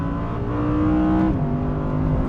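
A Lamborghini Huracan Evo RWD engine, revving hard toward 8,500 rpm, sings as a loud, steady mechanical drone, its pitch dropping abruptly about midway, as at a gear change, before it carries on strongly.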